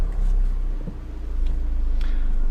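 Engine of a 2012 Volkswagen Scirocco starting up nearby, a brief cranking burst followed by a low, steady idle hum, loud and close inside the car.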